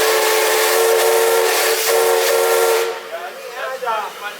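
A step-top steam whistle on Hillcrest Shay locomotive No.1044 blows one loud, sustained chord for about three seconds, then cuts off, leaving hissing steam and faint sounds behind.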